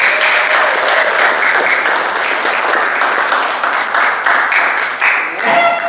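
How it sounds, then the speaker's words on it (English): Audience at a Lions Club meeting applauding the mothers present, a loud, steady roar of many hands clapping that holds throughout, with a few voices mixed in near the end. "Can we have a round of applause for all the moms?"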